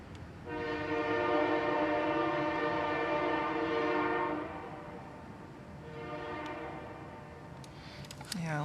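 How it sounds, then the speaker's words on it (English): A train horn sounds in long, loud blasts, starting about half a second in, fading around four seconds, then returning more faintly as the train rumbles past. "Hi, train."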